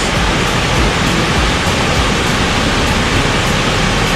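Rushing water from an outdoor waterfall in Missouri, a loud, dense, unbroken roar with no voices or other sounds.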